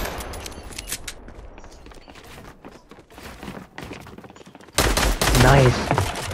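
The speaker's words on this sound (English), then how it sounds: "He's shooting at you, Yash." Scattered gunshots in a Bedwars match give way to a loud, dense burst of firing near the end, set against busy game ambience and clicking.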